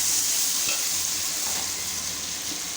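Onions, tomatoes and homemade biryani masala frying in a pot for chana biryani, a steady close sizzle with occasional stirring scrapes and clinks throughout, no talking.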